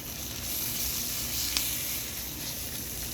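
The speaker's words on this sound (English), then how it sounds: "I'll saute all of that together" Vegetables sautéing in a pan for jollof rice give off a steady, even sizzling hiss that runs the whole time with a faint click partway through, and no one talks.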